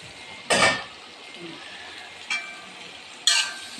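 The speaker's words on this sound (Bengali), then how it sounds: "এখন পাস্তাকে সিদ্ধ করা পাস্তাও দিয়ে দেবো" Boiled pasta tipped into a pan of fried spice masala, with metal utensils giving three sharp, bright clinks spaced a second or two apart over a quiet kitchen background.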